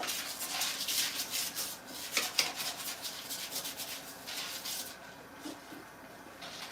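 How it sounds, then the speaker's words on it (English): A toilet brush scrubs the inside of a toilet bowl with steady, close rubbing strokes that ease off toward the end, heard alone without talk. "Give it a good scrub. Scrub-a-dub-dub."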